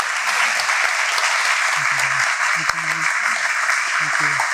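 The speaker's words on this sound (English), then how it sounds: "Give yourselves a round of applause" Audience applause fills the room after a screening of the film "The Sikh Soldier", steady and dense throughout, with a few faint voices speaking underneath.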